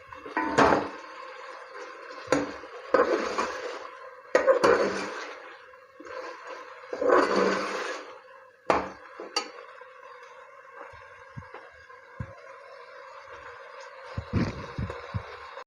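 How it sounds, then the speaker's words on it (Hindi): Taro root (arbi) stirred and fried in masala in a pot, heard as scraping, sizzling bursts in clustered strokes with pauses between, fairly close and alone. "अब अरबी डाल के भी इस मसाले को साथ अच्छी तरह अरबी को भूनेंगे।"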